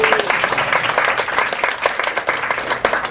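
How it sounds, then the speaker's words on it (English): A crowd at a nutrition talk gives a round of applause for the staff team: brisk, continuous clapping from many hands, fairly close and loud throughout. "Everybody give a big round of applause for our dynamic team"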